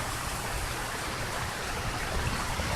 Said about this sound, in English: it's raining kind of hard.